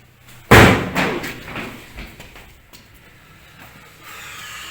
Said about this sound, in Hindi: पीछे वाला दरवाज़ा बंद करो, वो वाला दरवाज़ा